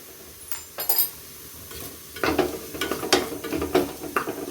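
Salted vegetables and rice are sautéed briefly in a pan: a few close scrapes and clinks of the spoon over a light sizzle, growing busier in the second half.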